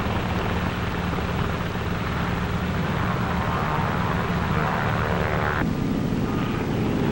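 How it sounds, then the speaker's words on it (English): Navy F6F Hellcat planes catapulted from the flight deck of the carrier USS Shangri-La at sea, heard as a loud, continuous engine roar mixed with wind, with a brief tonal change near the end. "Navy F-6F mother control planes are catapulted from the carrier's flight deck."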